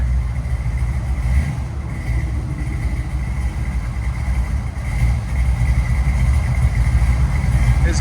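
A 1966 Chevy Chevelle SS with a 498 V8, headers and Flowmaster 40 Series exhaust idles steadily, a deep, loud, lumpy rumble holding even for several seconds with no voices.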